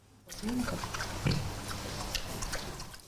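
A rescued piglet gives a few short, low grunts close by amid rustling and snuffling in an animal enclosure, with background noise throughout.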